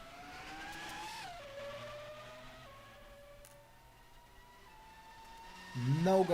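A race car in a racing video game drifts through a hairpin, its engine note sliding down as it brakes and then holding steady, with a sharp rise in tire and engine noise at the end, under commentary.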